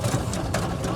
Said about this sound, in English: if you can hear this little rattling, I can hear it, that means we're pumping water into the engine